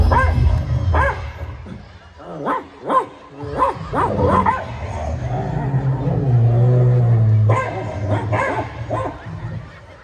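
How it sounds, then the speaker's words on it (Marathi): Several dogs bark, yip and snarl in a scuffle outdoors at a lively village game event, repeated bursts of close, loud barking and whimpers over a murmur of background noise. "कुत्र्याची भांडणं लागली इकडं"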